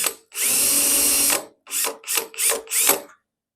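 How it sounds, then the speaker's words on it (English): A power drill whirs loudly in one long burst, then in four short pulses, boring up close through the metal of a 1968 VW Beetle under restoration. "Then my drill bit won't walk all over the place."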